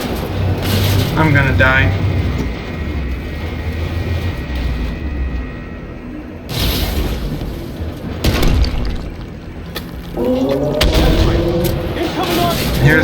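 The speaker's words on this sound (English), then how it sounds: "Here's the artillery to finish me because I can't move" Artillery fire in the tank game Armored Warfare, heavy booming impacts and blasts scattered through the clip under a roaring engine drone, with a speaker talking over it.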